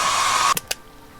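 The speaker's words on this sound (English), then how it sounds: "The hair dryer was angry." A hair dryer in a video game bathhouse blows loud and steady for about half a second, then cuts off abruptly, followed by two short clicks.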